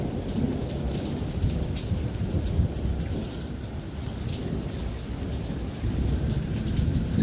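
Steady rain falls with low thunder rumbling through it, a dense and continuous wash of sound with no voices.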